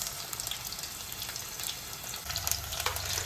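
Onions frying in a pan for tomato rice give a steady, close hiss and sizzle, with a low rumble from the burner underneath throughout.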